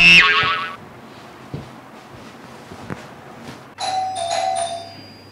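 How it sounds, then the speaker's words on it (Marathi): A home doorbell chimes loudly and up close, falls quiet apart from a few faint footsteps and knocks, then rings a second melodic chime. "ती बेल वाजली, निघा लवकर, उठा, कोण आहे बघा"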